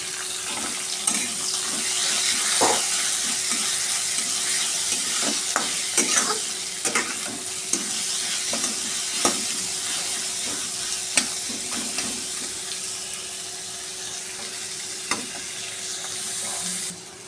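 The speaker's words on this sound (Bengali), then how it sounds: "ফ্রাই করে নেব।" Onion, potato, garlic, whole green chilies and a little capsicum fry in a pan with a continuous hiss and sizzle, broken by scattered stirring clicks and scrapes.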